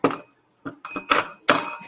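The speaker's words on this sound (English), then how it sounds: "I'm like having anxiety about this bell right now" A bell rings in several short, bright, clinking bursts with ringing overtones, separated by brief gaps.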